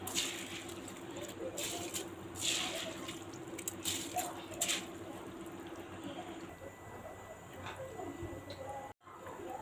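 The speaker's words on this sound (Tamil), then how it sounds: "இப்போ அரிசி போட்டுக்கலாம்." Soaked, drained parboiled rice poured into a cooking pot for kuska, giving a soft rustling, wet patter with a few sharper ticks, faint and close, while a person talks over it.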